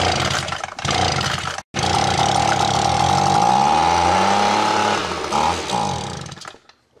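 An Echo leaf blower, previously refusing to start and fitted with a new carb kit, fuel lines and primer bulb, catches and runs with a loud, steady two-stroke whine after a brief cut-out, then sputters and dies at the end.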